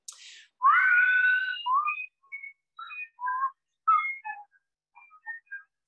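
A congregation whistles a cheerful tune together in a church service, opening with a rising swoop and continuing in short bright melodic phrases separated by brief pauses.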